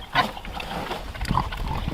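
Pigs in a pen give a brief run of close, rough grunts and snuffles with a louder grunt at the start, with no talking.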